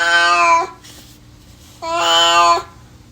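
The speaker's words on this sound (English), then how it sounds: "Damn, what's up, cat?" A cat meows twice, loud and close, in an ARK PvP game. Each meow is long and drawn out, and a short quiet gap separates the two calls.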